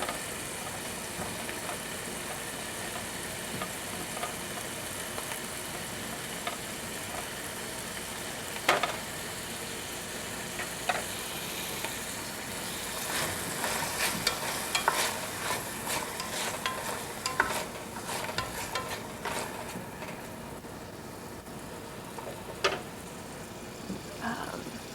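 Tomatoes and vegetables sautéing in a pan during a Mediterranean cooking demonstration, a soft continuous sizzle with occasional utensil clicks and scrapes stirring the pan, steady and close throughout.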